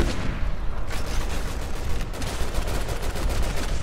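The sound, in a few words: gunfire from the video game Resident Evil 6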